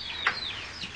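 Chicks or young chickens in a yard on a hot day give a few brief, close clucks and peeping calls, with one slightly louder cluck near the start and quieter bird sounds after.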